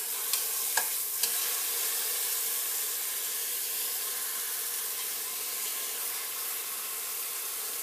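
Beef sears over medium to medium-high heat, giving a steady, even sizzle close by, with a couple of light utensil clicks near the start and no talking.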